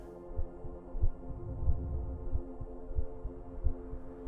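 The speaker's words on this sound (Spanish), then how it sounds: "El silencio se interrumpía solo por el eco de sus propios latidos." A slow, soft heartbeat thumps at an even pace, low and muffled, beneath a faint steady drone.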